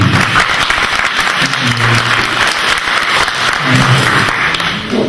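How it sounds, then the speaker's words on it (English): An audience claps for the head of mission at a Ghana High Commission visit in South Australia, loud continuous applause with faint voices murmuring underneath. "Shall we give you a clap?"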